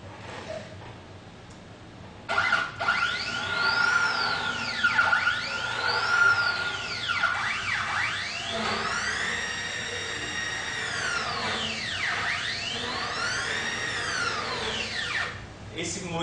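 Homemade CNC milling machine axis running fast in a test, its stepper motors whining in repeated rising and falling sweeps as the axis speeds up and slows down, loud and close.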